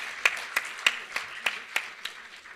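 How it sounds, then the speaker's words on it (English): A small audience at a justice panel gives the panel a sparse round of applause: about eight distinct, separated claps at a moderate, uneven rhythm, fairly quiet, with nothing else filling the gaps. "Let's give our panel another hand around of applause."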